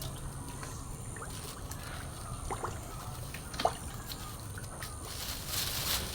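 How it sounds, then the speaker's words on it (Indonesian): Continuous low bubbling and trickling from a Sunsun AC/DC aerator running in a fish pond stocked with red tilapia, a steady watery wash with a few small splashes and drips, no talking. "ini mesin yang saya gunakan aerator ACDC merek Sunsun yang setiap hari menyala"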